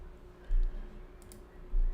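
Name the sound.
computer keyboard clicking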